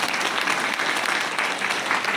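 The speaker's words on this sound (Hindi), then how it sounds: "तो चाहता हूँ सर के लिए जोरदार तालियां दोस्तों" An indoor audience at a team event breaks into sustained, dense applause, with many hands clapping evenly and fairly loudly throughout and no voice on top.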